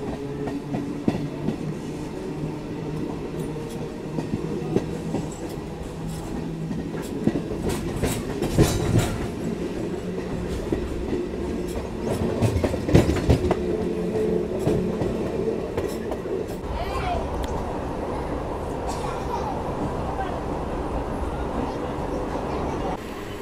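A MEMU passenger train runs on rails between Chintamani and Kolar, its steady close rumble overlaid with recurring clickety-clack wheel beats and occasional louder clattering surges, with faint voices in the background.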